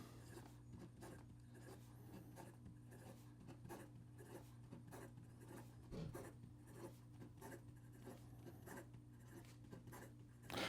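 A Schon DSGN Ultem fountain pen writes quickly across paper, giving a steady run of soft, close scratchy strokes with small pauses between words, with a low steady hum underneath.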